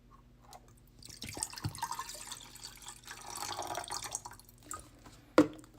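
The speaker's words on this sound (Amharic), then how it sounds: "ልክ ይሄን የሚበቃንን ያህል ውሃ እዚህ ላይ እንጨምራለን።" Water is poured into a cooking pot for a home cold and tonsil remedy: a close, splashy stream runs for several seconds with drips, then ends in a short clatter.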